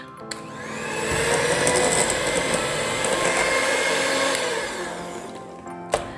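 An electric mixer whirs steadily at close range for about five seconds while beating cookie dough with sugar, a sustained motor drone that starts and winds down, followed by a brief clack.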